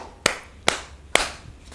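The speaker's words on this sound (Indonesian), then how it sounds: "Applause, tepuk tangan." Three sharp hand claps ring out close by at an even pace, each a crisp slap with a short decay, followed by a faint fourth tap.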